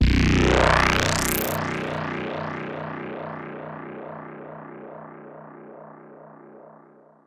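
Pulse Width Modulation Juice, a psytrance synth preset for Arturia Pigments, opens with a bright, swelling burst and a rising sweep, then settles into a wobbling, modulated tone that fades slowly over several seconds.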